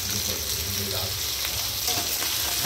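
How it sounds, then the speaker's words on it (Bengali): Hot oil sizzles steadily as luchi and potato-pointed gourd are fried in a pan at home, a dense, even crackle that stays close and loud throughout. "কারণ এগুলো ভাজা হচ্ছে।"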